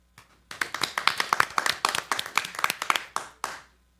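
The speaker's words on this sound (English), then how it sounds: "So please join me in giving Ms. Alicia Maximin a well-deserved round of applause." Brisk clapping from a committee chamber audience honoring Ms. Alicia Maximin, starting sparse, swelling into steady overlapping claps for about three seconds, then tapering off with a few final claps.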